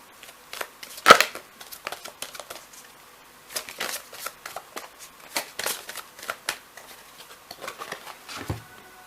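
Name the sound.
shuffling tarot cards to draw one more card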